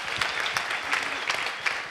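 Audience at a business conference in Copenhagen applauding, brief steady clapping from a crowd with a few sharper individual claps standing out.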